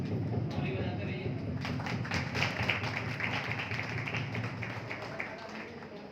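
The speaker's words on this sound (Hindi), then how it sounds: "ताली बजाते रहिए।" Crowd of people clapping in applause at an indoor gathering, a dense continuous patter of hands lasting throughout, fairly distant and steady with a voice faintly underneath.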